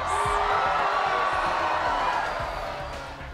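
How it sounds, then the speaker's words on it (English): A large political rally crowd for Sarah Palin in Pennsylvania roars in a sustained, dense wash of booing and jeers, loud and steady before tapering off slightly toward the end. "Yeah, that's booing that you're hearing."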